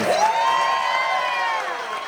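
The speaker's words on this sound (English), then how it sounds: "Everybody give this kid a round of applause." Crowd cheering and whooping at a MORC 2025 shred guitar contest, a dense, loud roar of voices with applause carrying steadily for about two seconds before easing slightly.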